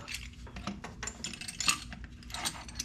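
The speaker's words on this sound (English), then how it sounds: "So here is my caliper spreader." A caliper spreader being closed up during front brake work on a Porsche 911, giving quiet metallic clicks and ratcheting mechanism taps, with a couple of brighter clinks, close and fairly soft.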